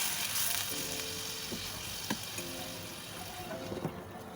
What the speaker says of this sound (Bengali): এবার আমি এর মধ্যে গরম জল দিয়ে দিলাম।